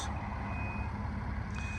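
Warning beeps from the power tailgate of a 2021 Ford F-150 Platinum pickup: a steady electronic tone sounding over a low, continuous truck rumble, with no talking.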